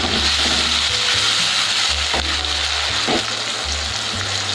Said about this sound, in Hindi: टमाटर डाल देंगे, मिक्स कर लेंगे।